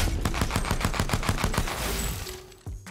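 Rapid automatic gunfire from Apex Legends in the Firing Range, a steady stream of loud close shots that stops near the end, followed by a single mechanical clack.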